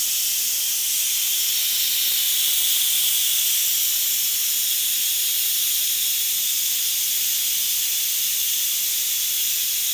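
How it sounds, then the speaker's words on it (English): Steam hisses steadily out of an Instant Pot's release vent after cooking pho, a loud, continuous broadband rush that holds at an even level for the whole stretch with no voices. "once you turn it off, steam comes up"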